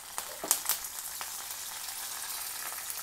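Fenugreek, mustard seeds, cumin and curry leaves frying in hot oil in a pan, a bright crackling sizzle with a few sharp pops early on that settles into a steady hiss.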